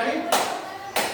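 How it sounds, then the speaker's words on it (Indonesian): Two sharp hand claps land about half a second apart in a classroom, each a loud broadband burst standing out above a steady background hum. "Ketika saya tepuk dua kali,"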